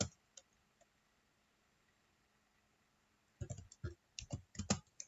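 Keys on a computer keyboard tapped out in a quick burst of irregular, close clicks following a quiet pause, like a short command being typed for a Python program.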